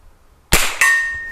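A Henry Frontier Long Barrel rifle fires one sharp shot outdoors, and a fraction of a second later a distant steel target rings back with a clear metallic tone that lingers and slowly fades.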